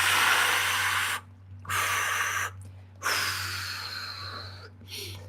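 Slow, deep breaths during hip stretches in a live workout, long airy inhales and exhales separated by short pauses, close and clear over a low steady hum.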